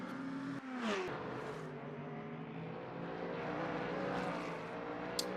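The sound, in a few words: race car engine accelerating in racing video game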